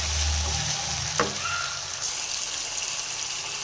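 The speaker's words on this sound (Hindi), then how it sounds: "चिकन को हम 5 से 6 मिनट तक अच्छे से भूनेंगे।" Chicken frying in a pan, a dense, loud and steady sizzle with one sharp stirring knock partway through.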